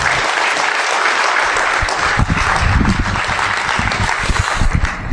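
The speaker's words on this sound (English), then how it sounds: "Let's give a round of applause for everybody that made this possible." A conference crowd at a keynote bursts into sustained applause, dense clapping from many hands filling the hall and staying steady for several seconds.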